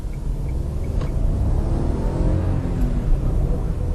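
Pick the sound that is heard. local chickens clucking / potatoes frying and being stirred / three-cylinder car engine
three-cylinder car engine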